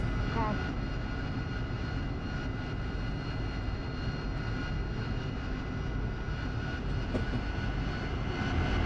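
A simulated jet aircraft's engine drones loudly and steadily as the plane begins rolling for takeoff in a flight simulator game, with a voice talking faintly underneath.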